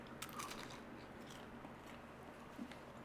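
Crunchy tortilla-cased apple pie topped with golden granulated demerara sugar being bitten into, a few crisp crackly crunches over a steady low background hum.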